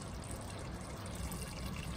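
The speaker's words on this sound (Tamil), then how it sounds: "இந்த தண்ணியை ட்ரெயின் பண்ணிவிட்டு" A quiet, steady stream of water pours and trickles as it drains off cooked rice, continuous and close with no speech.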